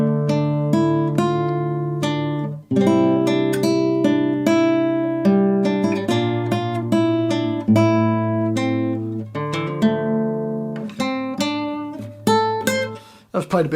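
Solo guitar plays a tune from The Witcher 3: Wild Hunt, a brisk melodic line of plucked notes with a low droning bass, somewhat fast and uneven, heard alone with no talking.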